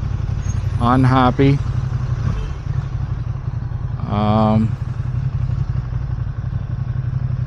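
Ducati Streetfighter V2 motorcycle rumbling along in first gear through stop-and-go traffic, a steady close engine drone throughout with brief revving swells, while a rider talks over it at intervals.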